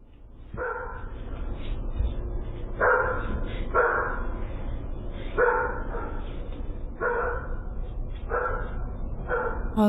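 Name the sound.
dogs barking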